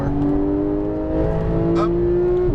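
A Lamborghini Huracan Performante on a race track accelerating back onto the power, steady loud engine drone with rising tone near the end and a driving instructor's voice faintly under it.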